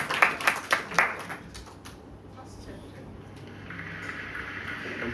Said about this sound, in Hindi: कंप्यूटर भी आपके लिए तालियां बजाएगा